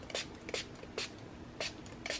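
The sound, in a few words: spraying coffee onto backside of paper sheet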